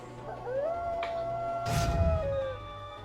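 A single rising, drawn-out Howl attack in a World of Warcraft Darkmoon Faire pet battle, close and fairly quiet, with a burst of noisy impact partway through.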